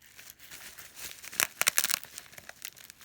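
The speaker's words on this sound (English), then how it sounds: "Okay, so I cut through that tape" A blade slices through packaging tape on a box holding a scooter exhaust, giving quiet crinkling that swells into a cluster of sharp tearing rips and crackles close up.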